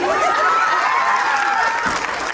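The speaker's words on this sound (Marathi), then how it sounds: "जोरात टाळ्या झाल्या पाहिजे" Audience applause at a Ganesh festival game show held outdoors in a Maharashtra village, a steady wash of clapping throughout with a faint voice over it.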